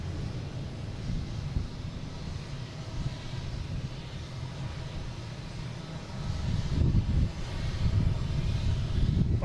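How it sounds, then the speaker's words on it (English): A JetBlue Airbus A320 jet at Boston Logan International Airport gives a distant, low engine rumble that swells louder toward the end. "a JetBlue heading to Fort Lauderdale on A320"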